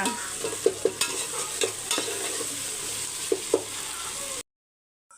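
Ginger garlic paste fries in a pan while being stirred, a steady close sizzle broken by repeated scraping and knocking strokes of the spoon, ending in abrupt silence.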